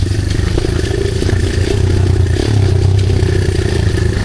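An enduro motorcycle on a rough trail gives a loud, close, steady engine drone with rattling clatter over bumps, revving slightly midway.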